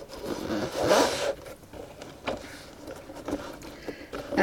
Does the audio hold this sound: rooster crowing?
no